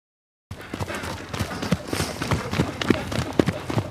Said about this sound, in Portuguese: ele sabe que tem um cavalo trotando lá